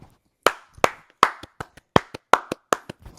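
Crisp hand claps ring out one at a time in an uneven rhythm, about a dozen sharp, close smacks with silence between them and no voices.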